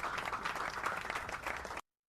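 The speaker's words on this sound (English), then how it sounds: "Let's clap. Let's not get tired of clapping." Steady applause from a church audience fills the whole brief stretch, dense and even before stopping abruptly, with no voices over it.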